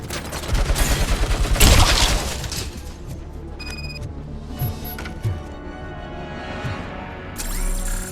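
Gunfire in the video game Robocop: Rogue City, a dense volley of shots in the first two seconds followed by scattered bangs and a few isolated shots, with electronic game tones in between.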